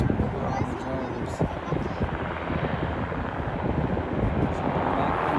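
Apache helicopters flying over a wildfire fight, their rotors a steady, loud, continuous beating roar that fills the whole stretch without letup.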